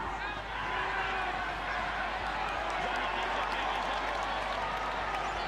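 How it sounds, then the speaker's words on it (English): A rugby league crowd at a 1999 NRL match between the Auckland Warriors and Cronulla Sharks jeers the touch judge, a loud, sustained roar of many voices filling the whole stretch. "Crowd still reminding the touch judge."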